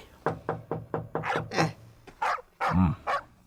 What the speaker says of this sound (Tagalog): sino nga tatitaulan ti aso tayo?